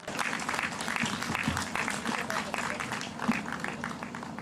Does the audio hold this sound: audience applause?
yes